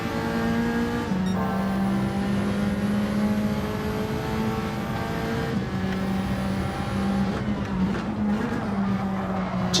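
Race cars including a Ferrari in a Gran Turismo race on PSVR2, with a steady engine drone and pitch shifts on gear changes plus some tyre squeal, continuous and loud with no talk.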